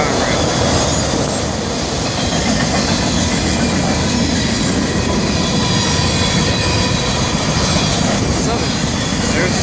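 A Conrail freight train rolls past close by, a loud, steady rumble and clatter of wagons with some wheel squeal running the whole length without pause.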